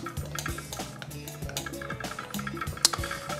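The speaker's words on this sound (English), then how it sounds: "And give it a good stir." Shoe polish being stirred into a melting plasticine mixture in a pot, with repeated scraping, clinking strokes and soft liquid swishes in an uneven rhythm, close and fairly clear.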